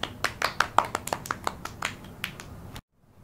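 Children clap their hands along to a Hindi alphabet song, about a dozen sharp, bright claps in a quick, slightly uneven run that stop abruptly into silence.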